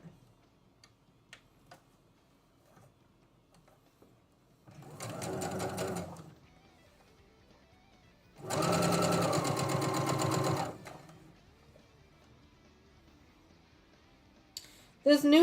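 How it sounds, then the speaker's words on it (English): A newer domestic sewing machine stitches a quilt row in two bursts of rapid mechanical whirring and ticking, the second longer, separated by quiet pauses with faint clicks. "This machine here is a newer machine than my Baby Lock, and man, it is much stronger."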